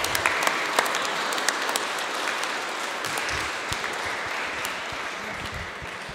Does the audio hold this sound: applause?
yes